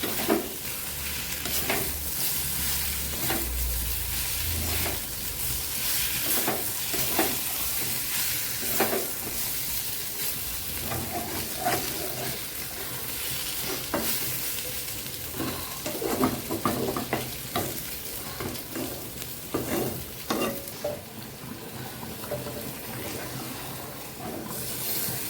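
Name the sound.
stir-frying fried pointed gourd in spiced dal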